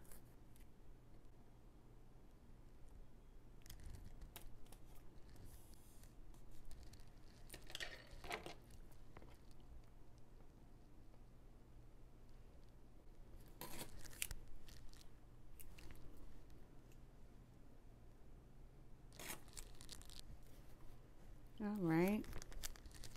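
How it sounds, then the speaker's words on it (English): Washi tape being handled and torn while decorating a Happy Planner Big, with faint soft crinkles and brief tearing bursts scattered under a quiet voice talking throughout. "I'm just gonna take this washi tape and carry it over onto this side."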